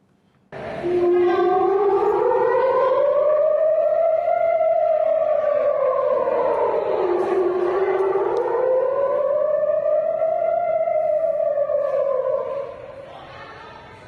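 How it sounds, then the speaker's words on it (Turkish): Air raid sirens at an airport in Israel during a Houthi attack: a loud wailing siren rises and falls in long slow sweeps, sustained for many seconds with an echoing, distant quality. "sirenleri bir duyalım, izleyelim istiyorum"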